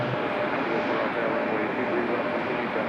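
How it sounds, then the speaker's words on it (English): An American Airlines Airbus A321-200 arriving at Raleigh-Durham airport from Dallas Fort Worth, a continuous loud engine roar filling the whole stretch without change. "our next arrival is American Airlines 2693 coming in from Dallas Fort Worth"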